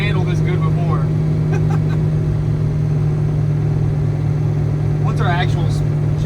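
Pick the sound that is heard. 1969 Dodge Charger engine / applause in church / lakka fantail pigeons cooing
1969 Dodge Charger engine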